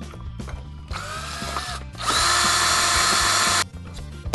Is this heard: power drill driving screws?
yes